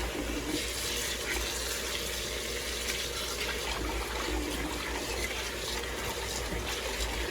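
Raw potato slices washed by hand in a bowl of water, a steady close sloshing and swirling of water that continues without pause for several seconds.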